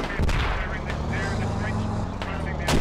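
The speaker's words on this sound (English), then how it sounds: "Mortars keep coming." Mortar fire in the Squad military video game: repeated distant thumps and sharp impacts over a steady low engine drone, with a louder hit near the end and voices talking throughout.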